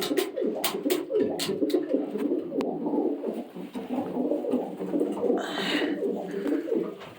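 Many pigeons coo steadily in a fancy pigeon breeder's loft housing show breeds, a dense, continuous layer of overlapping low coos with a few sharp flaps or knocks early on and a brief rustling burst near the end.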